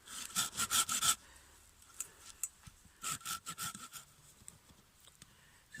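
A hand saw cutting a stop cut around a piece of wood for a natural mallet: bursts of rapid rasping strokes, close and fairly quiet, separated by pauses.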